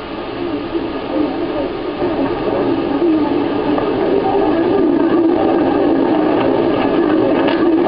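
A train crowded with departing men during the Italian invasion of Abyssinia rumbles and clatters steadily on old newsreel audio. The sound is loud and continuous, with band-limited, hissy tone throughout.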